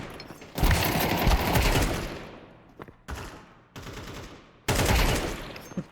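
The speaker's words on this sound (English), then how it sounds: "let's just try the AK." AK rifle fire in a video game: loud automatic bursts, a long sustained volley followed by three shorter bursts separated by brief gaps, close and dominant.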